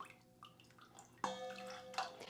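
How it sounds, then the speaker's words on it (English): Quiet splashing and dripping of a small amount of water being poured out, with a short trickle and a few drips. "Dump a little bit of the water out"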